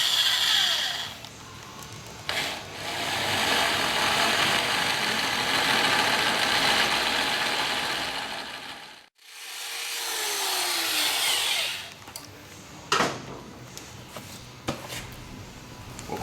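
A power drill boring a 7/16 inch finished hole for a motorcycle toe guard install, a steady grinding whir held for several seconds, a brief stop, then more drilling followed by a few sharp taps and clicks.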